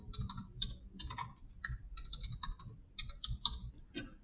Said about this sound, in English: typing that in the wrong place.